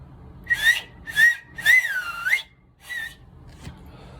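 A person whistles with two fingers, blowing five sharp, piercing blasts, some rising and falling in pitch, separated by short pauses.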